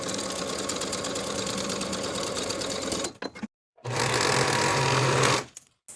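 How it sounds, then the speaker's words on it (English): Sewing machine stitching the bottom edge of a pant pocket lining, a loud close whir running steadily, stopping briefly, then starting again for a shorter run. "Sew the bottom of the pocket with a 3/8 inch seam allowance and finish the raw edges."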